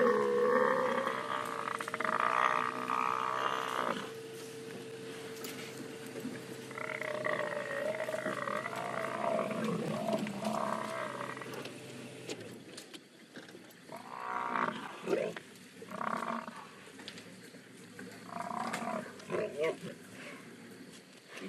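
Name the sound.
lions attacking a buffalo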